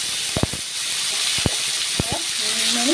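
Onions frying in hot oil in a Bengali kitchen, a steady close sizzle and hiss throughout with a few soft utensil taps, while a person talks briefly over it.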